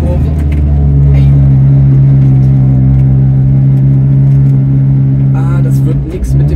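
A Piaggio Ape 50 three-wheeler strains while driving through a tight bend, its small engine droning loudly and steadily up close before dipping briefly near the end.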